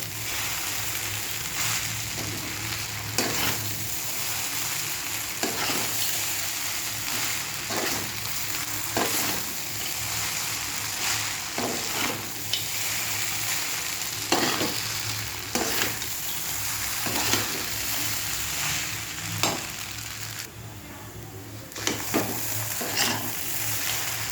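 Mixed vegetables and fried peanuts sizzle in a pan with a constant close frying hiss, punctuated by regular spatula stirring strokes every second or so, and no speech.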